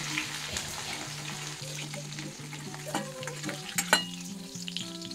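Paneer fries in hot oil with a bright, continuous sizzle and a few sharp stirring clinks and pops, while a faint, steady melodic tone runs underneath.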